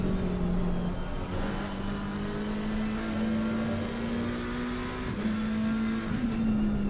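A McLaren GT3 race car in Assetto Corsa Competizione, heard from the onboard camera on a flying lap at Zolder, drones loudly and steadily, its engine note climbing slowly with a couple of brief dips at gear changes.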